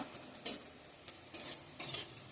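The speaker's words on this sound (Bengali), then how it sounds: "এদিকে আমি ফোড়ন দিয়ে দিয়েছি, তেজপাতা, রসুন, পেঁয়াজ, শুকনো লঙ্কা" Bay leaf, garlic, onion and dried chili crackle in hot oil while a spoon stirs and scrapes the pan in a few bursts; soft, close sizzling with no talking.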